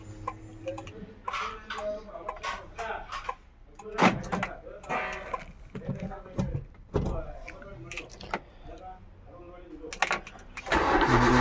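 A car engine idles in the background while an air pump inflates a front tyre that is losing air, with someone talking over the running sound and occasional clicks and knocks.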